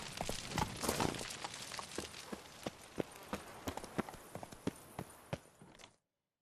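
A horse gallops in the video game Witcher 3, its hoofbeats a quick, even run of clip-clop strikes that carry to the end of the short stretch and then cut to silence.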